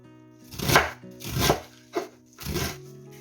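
A knife chops cabbage for borscht in four firm, separate strokes about half a second apart. Each cut is a close, crisp crunch, with faint tonal music underneath.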